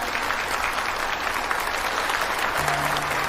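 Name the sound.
audience applause at a product launch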